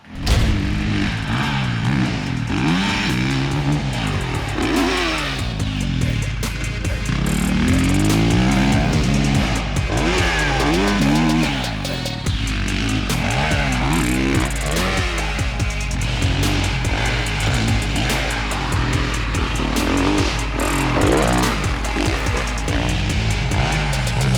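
Honda CRF 450 dirt bike riding laps on a dry track, engine revving up and down in repeated rising and falling sweeps, steady and fairly loud throughout.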